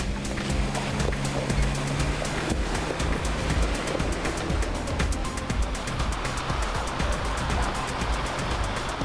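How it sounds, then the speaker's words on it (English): A vehicle drives through a creek crossing on a rain-soaked high country track: continuous rushing water and splashing with a steady engine rumble underneath, loud and close throughout, no voices. "Oh yeah, another creek crossing."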